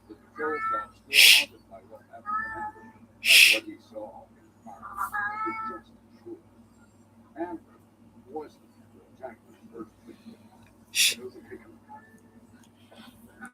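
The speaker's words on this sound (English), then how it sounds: "Yeah, that's my cat." A pet cat meows several times indoors, short tonal cries spread across the stretch, with a person quietly shushing between them and faint hissy breaths in the background.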